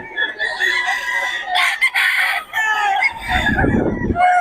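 A pumpkin sweater gamefowl rooster crows loud and close in one long drawn-out call, followed by low clucking, with a voice briefly speaking nearby.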